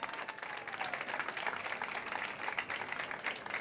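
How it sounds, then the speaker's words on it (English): A crowd applauds speakers Susanna, Jan and Nir on the innovation stage of the South Summit in Madrid, a dense, steady wash of clapping that holds throughout with no talk over it. "Big round of applause, please, for Susanna, for Jan,"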